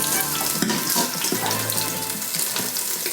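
Pork sears in an Instant Pot, a dense, continuous hissing sizzle that stays loud and even throughout, with no voices.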